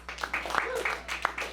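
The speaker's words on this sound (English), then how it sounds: "we're going to give a round of applause to Keep Waco Loud for putting this on every Monday night" Applause from a small open mic audience at a Monday night show: a few scattered claps sounding under a talking voice.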